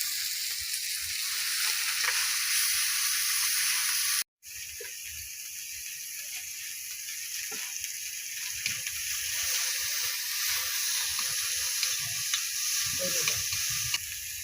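Bata fish and shrimp frying in a pan, a loud continuous close sizzle with a momentary dropout, then steady hissing with faint stirring clinks.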